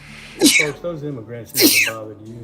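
A sharp sneeze bursts out twice amid steady speech during a live stream, each one a brief explosive blast layered over the talking voice.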